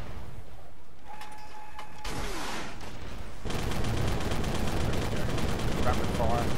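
BMP-3 autocannon firing rapidly in the tank game Armored Warfare, a dense, loud burst of repeated shots that sets in after a few seconds and keeps hammering steadily amid the battle noise.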